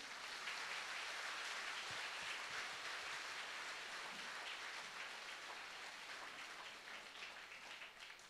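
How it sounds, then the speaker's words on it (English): A congregation at a healing and deliverance retreat claps together in a dense, continuous wash that holds steady and fades slightly toward the end, with no talking. "Let us praise the Lord by clapping our hands."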